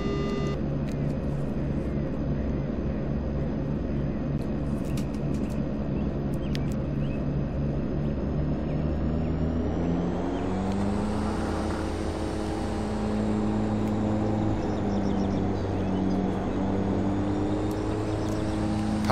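Twin turboprop engines of an Aerosoft Twin Otter run at takeoff power in a flight simulator, a loud steady drone with a rising pitch partway through as the aircraft accelerates down the runway.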